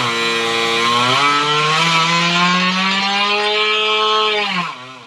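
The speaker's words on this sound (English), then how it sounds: "we're gonna turn the engine back on and try it again" A Vortex Rok GP kart engine running steadily on test, its pitch climbing and holding high before cutting off abruptly near the end, loud and close with no talking.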